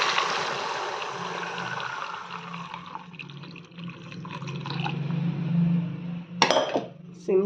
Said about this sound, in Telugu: ఈ సేమియా దాంట్లో ఈ హీట్ చేసుకున్న వాటర్ను వేస్తాను.